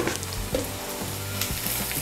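Onions fry in oil with turmeric powder for an okra sabji, giving a dense, even sizzle up close with a low steady hum beneath it.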